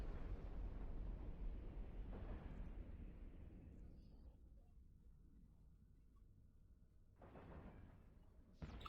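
Ship weapons fire in the space game Eve Online, heard as a low, rumbling blast that swells and slowly fades. A second burst rises near the end. No voices.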